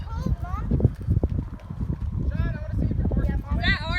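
Horse hooves clip-clop at a walk on a farm, a steady uneven patter heard close under continuous talk from several people.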